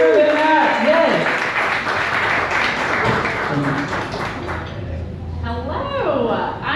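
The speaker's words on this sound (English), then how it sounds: "Can we get a huge round of applause for Jordan?" A business chapter audience gives a loud round of applause for a sponsor speaker, clapping thick for several seconds before thinning out as a voice comes in over the tail.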